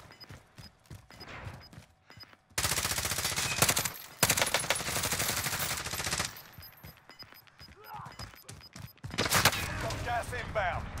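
Gunfire in the Warzone video game, with dense bursts of shots in loud stretches broken by quieter gaps, a few thuds mixed in, and talk heard between the volleys.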